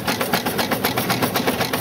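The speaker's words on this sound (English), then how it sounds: "See how the pumps work going down the road?" Water pumps of a 1911 Stanley Steamer steam car while driving down the road, a steady rapid chuffing pulse repeating several times per second, loud and continuous over road and wind noise.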